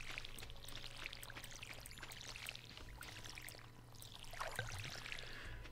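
Water pours into a watering can in Stardew Valley, a soft continuous gurgling stream with faint splashes, quiet and steady throughout.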